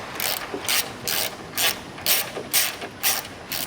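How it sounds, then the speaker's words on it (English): Ratchet wrench loosening the 13mm nuts on a car's front strut bar (castor radius rod to chassis bush), heard as seven bursts of fast clicking in an even rhythm, close and clear with no talk. "I just go around, loosen them all off until they're hand tight."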